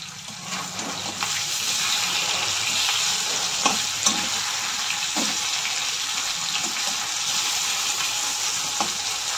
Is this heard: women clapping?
no